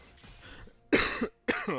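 Two sharp close coughs come in quick succession after a moment of soft breathy throat noise, each burst loud and short.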